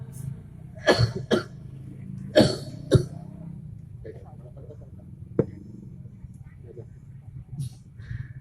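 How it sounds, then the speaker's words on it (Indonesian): A man coughs several times in short bursts during a sermon at a mosque, with quieter throat sounds between and background room noise. "Memang agak batuk dikit biasa."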